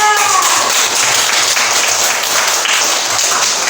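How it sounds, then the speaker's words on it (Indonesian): Classroom applause for a student group after their presentation of a school-environment drawing, a dense, steady patter of many hands filling the whole stretch at close range, with no voices. "tepuk tangan untuk kelompok 2"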